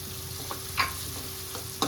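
Onions frying in a pan with turmeric just added, a steady soft sizzle with a few sharp scrapes of a spoon stirring against the pan, close and alone.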